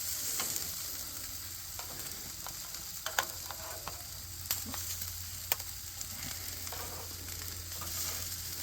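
Thin BBQ pork chops sizzle steadily in a hot pan right after being flipped, a constant close hiss with scattered sharp pops and crackles and no voices.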